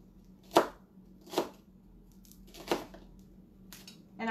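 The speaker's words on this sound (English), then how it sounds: "I'm cutting onions that I'm going to be adding to the ground beef that I'm going to be using for the enchiladas" A knife chops onions on a board in a few sharp, separate strokes, close and fairly quiet against a still kitchen.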